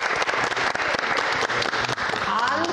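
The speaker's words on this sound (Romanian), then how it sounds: "Aplauze!" A studio audience at a Romanian matchmaking show applauds loudly for a newly declared couple, dense clapping sustained for a few seconds with voices mixed in.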